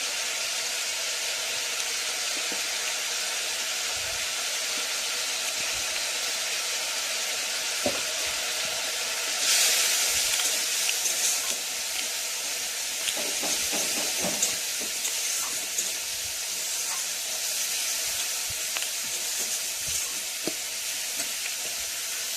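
Potatoes frying in oil for a koi fish curry: a dense, continuous sizzle throughout, swelling briefly louder partway through, with faint taps of a utensil and no voices.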